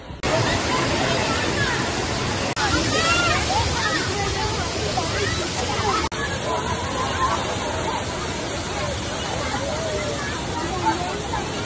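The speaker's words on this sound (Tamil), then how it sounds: "தண்ணி ஒழுகுதாங்க." Water pours down the Courtallam waterfall in a loud, constant rushing wash, with the murmur of voices mixed into the roar.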